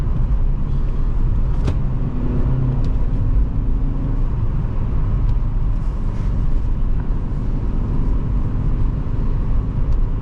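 Engine of a 2006 Toyota Matrix XR heard from inside while driving, a loud steady low drone and road rumble with faint wind noise and no clear rise and fall in revs.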